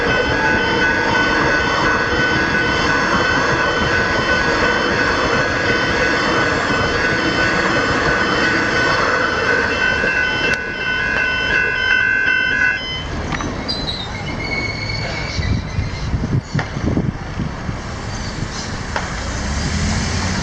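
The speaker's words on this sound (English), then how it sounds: "that's a train heading to Mernda." Train heading to Mernda passes through the Murray Road level crossing in Preston, Victoria. A steady, loud rumble runs throughout, with ringing crossing-warning tones that stop partway through, leaving a rougher rolling noise.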